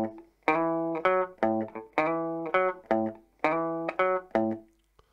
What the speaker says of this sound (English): And I use my ring finger here to slide into the 7th.